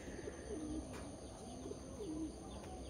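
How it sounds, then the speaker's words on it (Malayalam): Domestic pigeons coo in soft, throaty bursts, several rolling calls repeating at a relaxed pace over a steady background hum, with faint chirps nearby. "നിങ്ങളുടെ പ്രാവും കുട്ടന്മാരെയൊക്കെ നമുക്ക് നോക്കാം."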